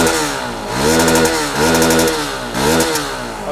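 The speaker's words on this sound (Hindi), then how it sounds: "Obviously exhaust note." Hero XPulse 200 4V motorcycle exhaust note, revved three times in steady succession, each blip rising to a loud, raspy high-rev peak before dropping back. Heard close and clear, with no talking.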